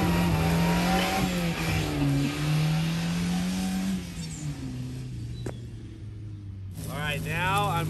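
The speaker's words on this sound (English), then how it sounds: "This is a two-wheel drive launch" A right-hand-drive all-wheel-drive van with a stick shift makes a two-wheel-drive launch, its engine revving hard and climbing through the gears nearby before easing off. Then a brief tire squeal, with people talking over it.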